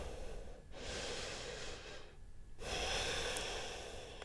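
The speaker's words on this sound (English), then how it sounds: "Breathing slowly and softly in through the nose and exhaling slowly and softly." Slow, soft breathing during a yoga session, drawn in through the nose and released in long, even breaths, close and steady, with two quiet pauses between breaths and no talking.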